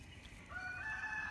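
Chickens in a backyard coop, including a broody Silkie hen, give a rooster-like crow that rises and holds over soft background noise, fairly close and alone without talk.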